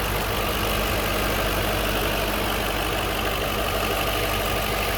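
A 2007 Audi S5 Cabriolet engine idles steadily at close range, a continuous even rumble with no changes in speed throughout.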